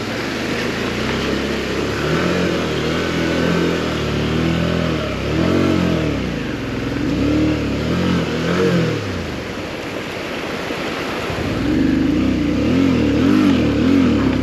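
A motorbike engine hums and revs continuously as it rides along a dark, wet road through cloud, loud and close with shifting pitch as the throttle rises and falls.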